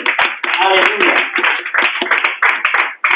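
Loud, close clapping from a church congregation during a sermon, sharp rhythmic hand claps mixed with a loud voice speaking over them throughout.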